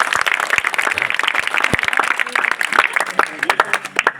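An audience at a wrestling gym event bursts into brisk applause, many hands clapping close and loud with uneven rhythm and some voices mixed in.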